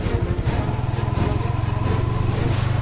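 A motorcycle engine runs loud and close at a steady, throbbing idle-to-rev as the rider hurries off, a continuous rough drone with no break.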